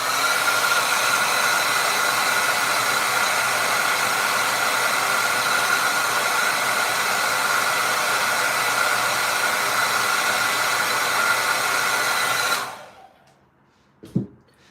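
A hair dryer blows a loud, steady whoosh up close for about twelve seconds while acrylic paint dries, then switches off, leaving near silence and a short bump.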